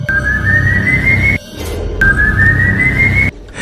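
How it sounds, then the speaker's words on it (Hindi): An eerie sustained whistle sounds twice in a horror cartoon about a rainy night, each tone sliding slowly upward for over a second before cutting off abruptly, loud and close over a low rumbling bed. "तभी हवा में सीटी की एक चीरती हुई आवाज आई।"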